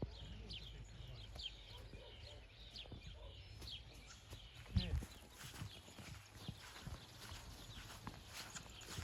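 Hooves of a stallion clip-clopping in a steady walking rhythm as it is led, with a heavier thud midway, under people talking and faint birdsong.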